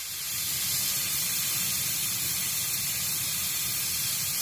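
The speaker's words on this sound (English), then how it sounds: "This other side is the steamer." Steam hisses steadily from the milk steamer wand of an old stovetop cappuccino and espresso maker, a loud, continuous broadband rush close by with no talking.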